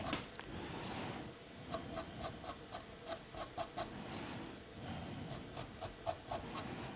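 A pastel pencil scratches across paper while shading in shadows, producing faint, close rubbing strokes in quick rhythmic bursts, with no talk.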